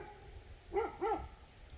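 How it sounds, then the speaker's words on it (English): A dog indoors gives two quick, moderately close barks in succession, the pair standing out against a quiet room background. "My dog's going. He sees something."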